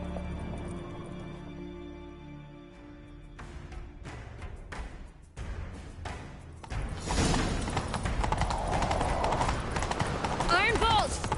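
Horses gallop in a video game chase, with hoofbeats building from about seven seconds and running steadily under game music and sound effects.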